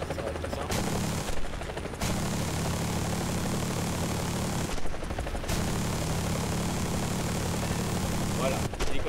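Helicopter minigun fire in War Thunder, long continuous buzzing bursts over a droning rotor and engine, loud and close, broken by short pauses between volleys.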